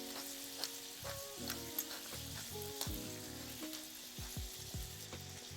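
Bacon frying in a pan sizzles steadily with crackling pops, while metal scrapes and stirring knocks sound close by in short repeated strokes; no talking.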